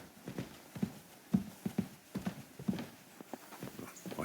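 Horse hooves in Kingdom Come Deliverance 2, a rhythmic clip-clop of steady walking steps, close and moderately quiet, with no talk.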